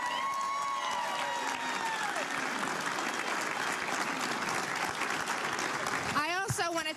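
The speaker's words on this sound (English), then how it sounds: "let's give them one more round of applause" A crowd applauds loudly and continuously, with scattered cheers, while a voice speaks over the clapping near the start, at a 2018 election night event.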